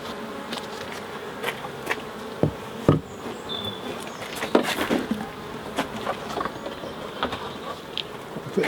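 A honeybee swarm hums steadily inside a hive three weeks after capture, a dense continuous buzz with scattered close knocks and taps over it, no talking.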